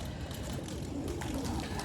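Pigeon cooing softly in a loft, a low murmuring coo repeating over a steady background hum, with faint rustling.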